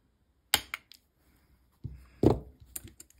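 Lishi cutter jig cutting a Yale key: a sharp click, then a scraping, grinding pass of the cutter through metal, followed by a few small taps and clicks, close and fairly quiet with no talk.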